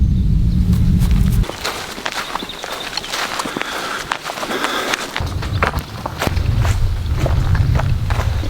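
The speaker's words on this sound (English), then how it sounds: "I'm going to take a walk over." Footsteps crunch steadily outdoors across rough ground toward planted coppice cuttings, a close, continuous stride of many steps with wind rumble at the start and end.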